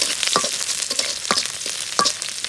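Garlic frying in mustard oil until reddened, a constant close sizzle punctuated by three rhythmic spatula scrapes against the pan, with no one speaking.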